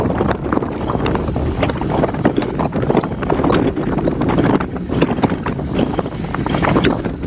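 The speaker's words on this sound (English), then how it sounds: "Very, very windy here. You can hear and see it." Strong wind buffets the microphone on an exposed road stretch during a group bike ride, a loud, continuous roar with gusty thumps and crackles throughout, with no talk.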